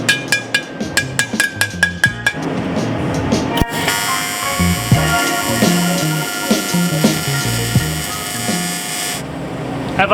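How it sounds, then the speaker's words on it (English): Mini hammer tapping on a welded metal part, a quick run of sharp, evenly spaced metallic strikes at the start, followed by a longer stretch of irregular clanks and ringing over a steady hum. "Got the mini hammer."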